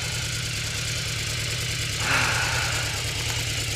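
A Yamaha VMAX motorcycle engine idles close by with a steady low, rhythmic throb and a brief lift in pitch midway, with no talking.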